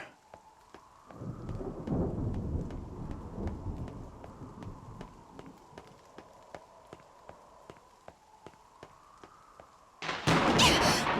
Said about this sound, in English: That thunder scared me right back into my old self.